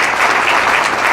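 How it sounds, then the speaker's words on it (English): Audience at a banquet applauds, a dense, loud wash of many hands clapping together, close and sustained for the whole brief moment. "So let's give him one more round of applause."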